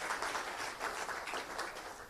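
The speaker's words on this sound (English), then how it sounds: "So a big round of applause." An audience applauds Scott and Dave at an innovation awards launch in Western Australia, steady dense clapping heard faintly and from a distance.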